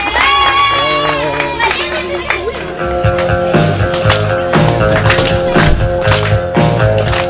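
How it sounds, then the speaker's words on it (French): An audience at a magic show claps and cheers loudly for a volunteer, with scattered handclaps and crowd noise running under music and a presenter's voice. "On applaudit, merci Hugo"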